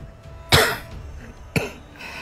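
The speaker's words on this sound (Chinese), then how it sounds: "老妪干咳一声" An old woman gives a dry cough, two short sharp bursts about a second apart, close and clear against quiet.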